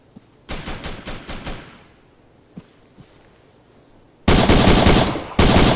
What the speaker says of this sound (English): There's gunfire going around every so often.